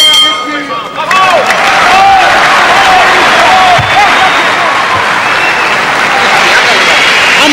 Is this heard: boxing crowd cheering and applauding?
yes